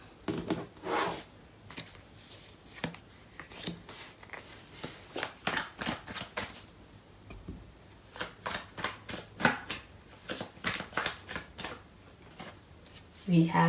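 Tarot cards being shuffled close up, a rapid series of crisp riffling and flicking bursts in several runs with short pauses between them, quiet and intimate.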